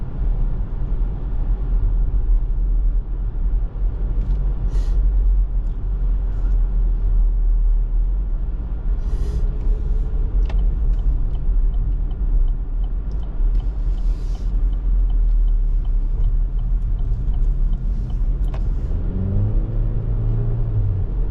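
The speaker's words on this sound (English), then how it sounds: "Now it's going to be a little loud under load, as any turbo 4-cylinder engine would be" The 2024 Chevrolet Equinox LS AWD's turbo 4-cylinder engine drones under load while driving, a steady loud low rumble with road noise, a few faint clicks and a rising whir near the end.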